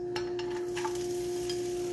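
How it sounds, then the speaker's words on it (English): Onions sizzle and crackle in a hot pan, a steady close hiss with a faint electric hum underneath and occasional stirring scrapes. "There they go, sizzling."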